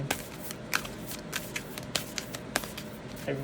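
Cards riffled and shuffled by hand, a steady run of crisp flicking bursts over quiet background, close up.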